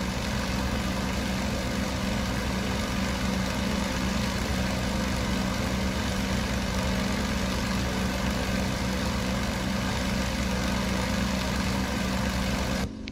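Yak-52 radial piston engine droning steadily during a takeoff roll down the runway in the DCS flight simulator game, a dense continuous roar with constant low hum that stays even throughout.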